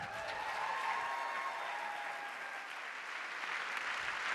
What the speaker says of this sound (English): Please give a round of applause to best-selling novelists Rebecca Searle and Laura Dave.